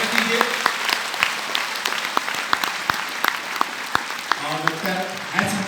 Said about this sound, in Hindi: प्लीज जोरदार तालियों से सर का स्वागत कीजिए